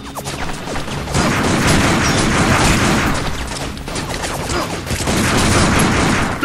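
Machine gun fire in the PS3 shooter Binary Domain: loud, dense bursts of rapid shots fill the whole stretch, with a short lull near the middle before the firing surges again.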